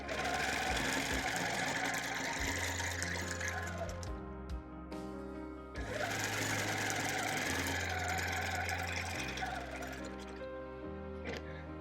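A sewing machine runs in steady bursts while stitching a bird panel quilt, its motor whirring loudly and continuously with a brief pause mid-way before resuming.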